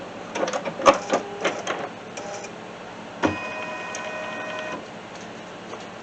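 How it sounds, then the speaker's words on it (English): An embroidery machine stitches elastic onto a coffee cup cozy in the hoop, with quick mechanical ticks and taps followed by a steady, buzzing run of rapid stitching that then stops. "So I'm just going to stitch down my elastic."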